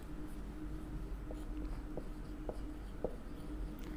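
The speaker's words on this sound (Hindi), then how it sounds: "यहाँ पर हम लिख देते हैं बल्ब्स और यहाँ पे लिख देते हैं ट्यूब्स" Words written on paper with a pen, a soft continuous scratching close by with faint periodic taps as strokes begin, quiet and alone over a low background hum.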